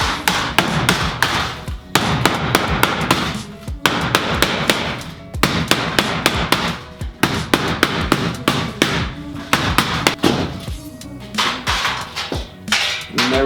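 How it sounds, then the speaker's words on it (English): Sharp hammer taps strike metal to form a 90-degree bend, in quick, steady bursts with brief pauses between runs of blows, loud and close. "I'm just gonna take my hammer and just slightly tap"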